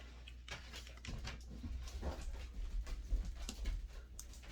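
A Great Dane whimpers softly and pants nearby indoors, the faint whines mixed with breathing and low rumbling movement noise.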